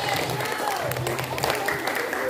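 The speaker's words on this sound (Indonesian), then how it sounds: "Oke, tepuk tangan dulu." Students at a school study tour at a museum in Mojokerto City clap together, a dense, steady patter of applause mixed with voices and crowd chatter.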